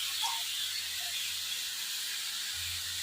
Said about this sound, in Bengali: ঢাকা দেবো না, এমনি আস্তে আস্তে ভাজতে থাকবো।